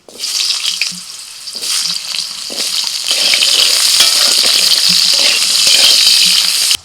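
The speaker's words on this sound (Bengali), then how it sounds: "কড়াইতে আরেকটু সর্ষের তেল দিয়ে ওর মধ্যে ফোড়নে দিচ্ছি শুকনো লঙ্কা এবার দিয়ে দিচ্ছি আলু" Potatoes and dried red chillies frying in mustard oil in a kadai, a loud steady sizzle that swells after a few seconds, with occasional stirring scrapes and clinks throughout.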